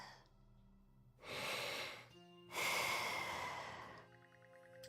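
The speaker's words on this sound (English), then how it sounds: "The sound of Karja's steady breathing fills the air." Steady sleeping breaths from a video game character named Karja, two slow, soft exhales drawn out like gentle sighs, close and quiet over faint background music.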